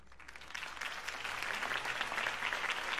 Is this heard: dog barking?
no